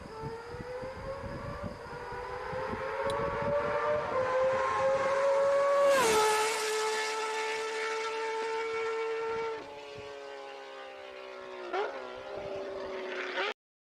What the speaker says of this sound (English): old Honda CBX engine that just sounds purely just amazing